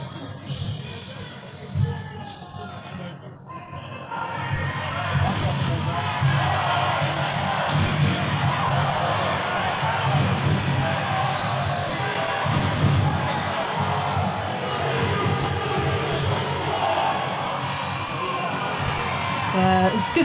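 A home crowd at a varsity men's basketball game keeps up a loud, continuous roar of cheering and shouting, with a commentator talking over it throughout.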